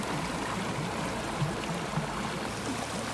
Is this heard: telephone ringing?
no